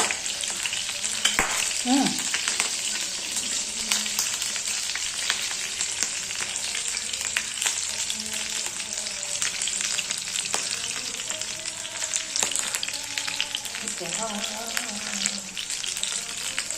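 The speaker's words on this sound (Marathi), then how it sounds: "हिरवी चिली चांगली भाजून द्यायची आहे." Green chillies roasting and frying in a hot pan, a dense, continuous close sizzle with crackles and a few faint stirring clinks, no talking.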